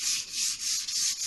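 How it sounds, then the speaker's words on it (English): Dry quick-dry satin paint over oil gloss being sanded by hand, a close, rough rubbing rasp in several back-and-forth strokes with no talk. "This is dry enough to give it a sand."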